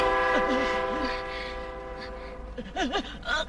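A train rumbles past with a steady drone and tonal horn-like notes, while a wailing siren-like tone rises and falls over it.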